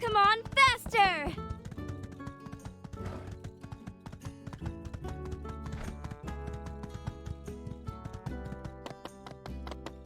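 A horse gallops in the video game My Time at Sandrock, giving a quick, even run of hoof clip-clops over background music. A short whinny or excited vocal cry comes near the start.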